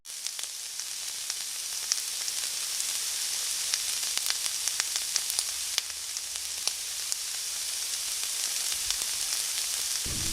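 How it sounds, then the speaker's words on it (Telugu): Ivy gourd (dondakaya) pieces deep frying in hot oil, giving a steady, dense sizzle and crackle with scattered sharp pops throughout, close and uninterrupted. "ఇలా బాగా కలుపుకొని ఇప్పుడు వీటిని డీప్ ఫ్రై చేసుకుందాము"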